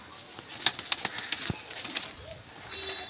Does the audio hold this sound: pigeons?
yes